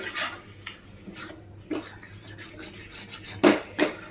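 A few small potatoes go into a pot of browned mutton, giving scattered clinks and knocks of a spoon against metal cookware, with a couple of louder clatters near the end, close by and with no talk.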